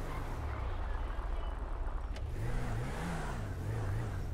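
A car engine in GTA 5 idles and rumbles steadily while being parked, with a low droning tone that rises and wavers toward the end, alone without talk.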